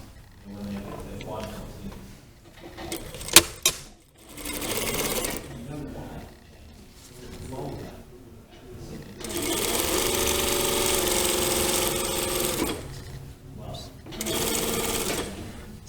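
Short and then longer bursts of a sewing machine stitching down a seam on a lined jacket vent, loud and close, starting and stopping between stretches of a person talking.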